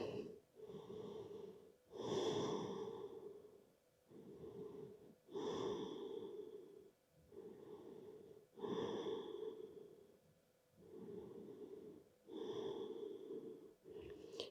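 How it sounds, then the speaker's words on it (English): Slow, deep belly breathing during a yoga crocodile pose comes in steady cycles, with audible inhales and exhales about every three to four seconds. The breaths are close and soft, with no talking. "just breathe into the belly here."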